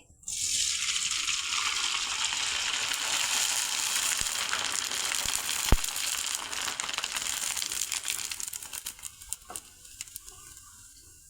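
Wheat kurdai deep-frying in hot oil, a loud, steady crackling sizzle that holds for most of the span, with a few sharp clicks near the middle, before easing off toward the end.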